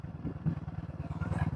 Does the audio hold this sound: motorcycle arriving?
yes